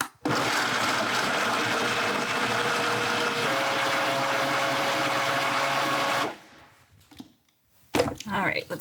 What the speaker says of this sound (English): And we're just gonna blend this all up.